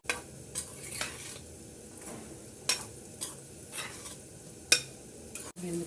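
Chicken seasoned with turmeric and salt frying in a pan, a steady low sizzle beneath periodic sharp scrapes and taps of a spatula against the metal.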